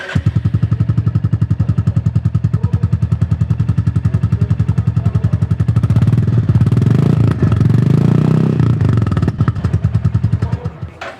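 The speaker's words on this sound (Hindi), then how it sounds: "और अब टाइम हो गया क्लासिक 350 के एग्जॉस्ट नॉट को सुनने का।" Royal Enfield Classic 350 exhaust, loud and close: a steady, evenly pulsing single-cylinder idle thump, swelling into a fuller throttle rev midway, then easing back before fading out.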